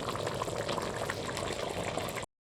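Mutton cooks down for Kolkata-style mutton kosha in a pan, giving a dense, steady sizzle and bubbling that runs close and loud for about two seconds, then cuts off.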